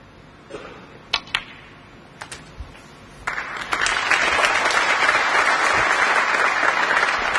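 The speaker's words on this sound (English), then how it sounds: "The applause acknowledging that that was frame ball" Applause breaks out in the arena at a snooker Masters match between Ding Junhui and John Higgins, following a few sharp clicks of balls; the clapping swells and holds steady, broad and sustained.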